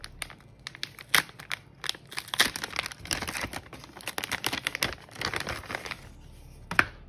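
Crinkling and tearing of plastic packaging as a Lensgo 348C lavalier microphone's cables are unwrapped, close and irregular, with dense bursts of rustling and a few sharp crackles throughout.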